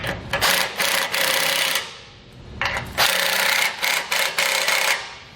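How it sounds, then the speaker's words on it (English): A ratchet and 19mm socket snugging down bolts on a Blue Ox base plate on a 2017 Ford Expedition, with loud, close bursts of rapid clicking that come in several runs, separated by brief pauses. "We can now come back with a 19mm socket and just snug everything down."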